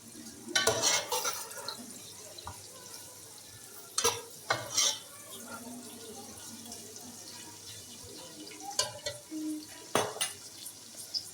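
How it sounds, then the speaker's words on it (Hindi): Onions browning in a pan over a medium flame are stirred, with soft sizzling underneath and intermittent scraping and clinking of a spoon against the pan, close by and with no talk over it. "प्याज को आपने बहुत ज़्यादा डार्क ब्राउन नहीं करना, इसलिए आपने मीडियम फ्लेम के ऊपर प्याज को साथ साथ चलाते रहना है"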